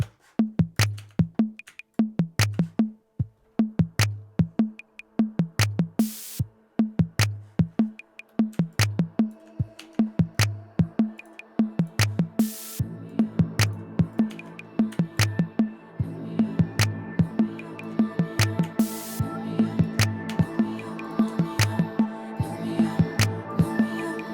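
A thin, filtered pulsing synth pattern with echoing delay and reverb tails, gradually building into a denser, washier texture.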